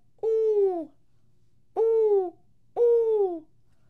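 Three drawn-out hooting calls like an owl, evenly spaced and clear against a quiet background, in a children's Spanish sound-words lesson; the hoots sound voiced and may be a person imitating the owl.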